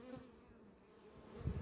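Honeybees buzzing around an open hive during preparation of colonies for winter, a soft continuous drone with bees passing close, louder near the end.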